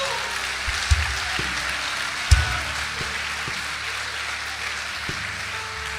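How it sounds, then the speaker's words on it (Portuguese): Congregation applause for the Lord during a Portuguese-language sermon: a broad, steady crackle of many hands clapping, with a few sharp knocks and thumps over it and some speech mixed in. "Você pode aplaudir o Senhor?"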